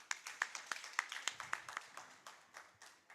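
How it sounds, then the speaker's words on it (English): A small group claps in a steady, brisk rhythm at an inter-university debate, the individual claps distinct and fairly close, with no voices. "I think for that we need to really applaud you"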